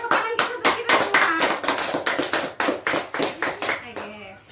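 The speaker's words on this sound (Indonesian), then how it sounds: "Oke, tepuk tangan kita untuk kita semua" Hands clapping in a classroom, a rapid burst of applause from a group with a few voices mixed in, loud and close, tapering off toward the end.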